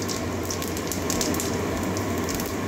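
Bengali five-spice seeds tempering in hot oil with diced potatoes in the pan, giving a steady, moderate crackling sizzle that stays even throughout with no talking.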